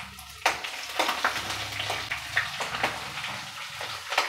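Peanuts, dals and chillies fry in a pan with a soft crackle, while sharp scraping stirs and clinks break in at irregular intervals, close and moderately loud.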